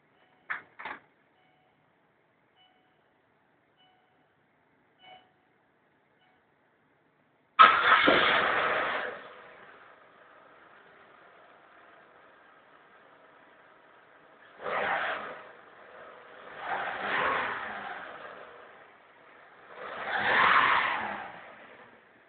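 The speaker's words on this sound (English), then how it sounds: "Put it right here so you can hear the engine a little bit." A 2007 Suzuki Reno cranks and catches with a loud burst, settles into a steady idle, then revs up three times in rising and falling swells, recorded near the exhaust after a couple of faint clicks.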